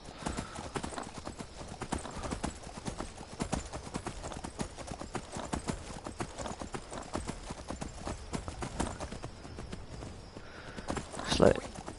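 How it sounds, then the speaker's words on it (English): A horse gallops in Skyrim, with a fast, even run of hoofbeats that carries on for several seconds before a sharper burst near the end, while someone talks over it. "Blimmin' horse."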